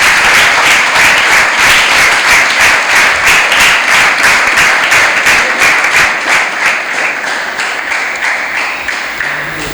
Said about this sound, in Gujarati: જોરદાર તાળીઓથી આપણે વધાવીશું.